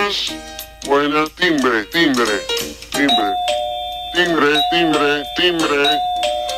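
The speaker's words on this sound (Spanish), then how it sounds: "Timbre." A doorbell sounds in clear ringing tones amid loud talk and voices in a comedy sketch, the chime standing out repeatedly over speech.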